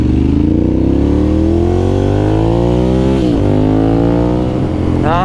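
A 2009 Ducati Monster 1100 engine pulls loud and close while riding, a deep steady roar rising in pitch through the revs, with a shift and a fresh climb near the end.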